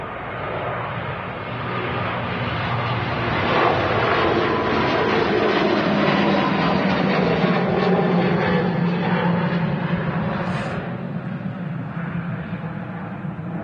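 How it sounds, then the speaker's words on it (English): Air Transat A321neo jet airliner at Manchester Airport, a steady, broad engine roar that swells slightly and holds for many seconds at a fair distance, with no speech. "Sounded awesome. The Air Transat A321neo"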